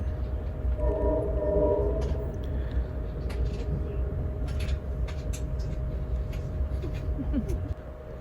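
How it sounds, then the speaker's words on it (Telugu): A passenger train runs through a mountain tunnel with a steady, loud, enclosed rumble and roar, and a brief tonal horn-like sound near the start, without any speech. "ఇప్పుడైతే ట్రైన్ టనెల్ నుంచి వెళ్తుంది."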